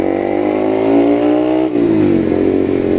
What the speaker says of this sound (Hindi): एक बार और एग्जॉस्ट नोट आप सुन लो